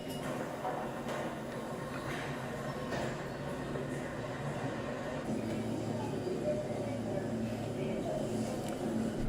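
Train carriage rumbling steadily on a commute, a continuous low roar with faint rattles and occasional squeals, close and enveloping; murmured voices in the background.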